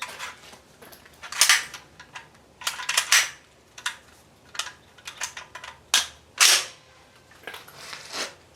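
Single gunshots from a CETME L rifle during first shots and sight-in, heard as a series of sharp, fairly close cracks at irregular intervals with quieter clicks and rattles between them.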